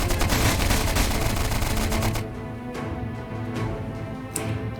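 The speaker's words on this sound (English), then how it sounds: "So I've got my machine gun there now." Sustained machine gun fire in the trench warfare video game Stickman Trenches, a dense rattling stream of rapid shots for about two seconds, then quieter scattered distant gunfire and battle noise.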